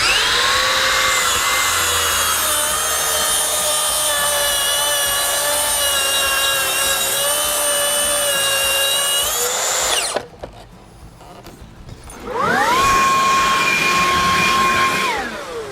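A Makita plunge track saw cuts a panel on a Bora Centipede workstand outdoors. A loud, close, steady motor whine runs about ten seconds, cuts out briefly, then spins up again.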